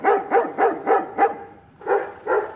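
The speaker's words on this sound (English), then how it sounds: "We've got a dog here that's happy to see me." A dog barks repeatedly in a fast, regular series of sharp woofs, fairly close, pausing briefly before two more barks.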